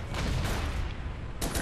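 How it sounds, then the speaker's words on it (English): Artillery barrage in the toy-soldier war game Toy Soldiers: War Chest, a dense continuous rumble of booms and blasts throughout, with a sharper burst of impacts near the end. "Kind of a bit overkill with that artillery."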